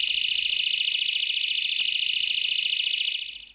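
A lock alarm's loud, piercing electronic siren warbles continuously at close range, then cuts off abruptly.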